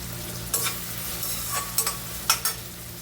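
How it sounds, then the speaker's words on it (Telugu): Ridge gourd pieces being stirred in a pan, a few soft scraping stir strokes over a low steady cooking hiss, close and without talk. "ఇప్పుడు బీరకాయ ఇందులోకి వేసి మంచిగా కలుపుదాము."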